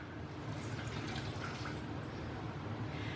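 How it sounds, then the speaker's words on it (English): Lime juice poured into a bowl of raw fish for ceviche, a steady liquid trickle and splash running unbroken for a few seconds at moderate level, with no talking. "We're going to go ahead and pour this juice"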